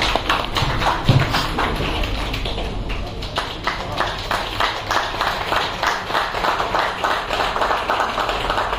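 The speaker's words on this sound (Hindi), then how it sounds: "जोरदार ताली बजाएं डॉक्टर साहब के डिग्री से सम्मान" An audience at a university PhD degree ceremony claps steadily throughout, a dense, continuous patter of many hands filling the whole stretch, with some voices mixed underneath.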